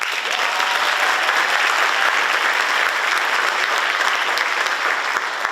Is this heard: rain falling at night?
no